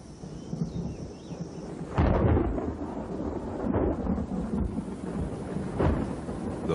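A tropical thunderstorm rolls over limestone cave country, with a steady hiss of rain broken by several loud, booming thunder cracks, the strongest at about two seconds and near the end, with no voices.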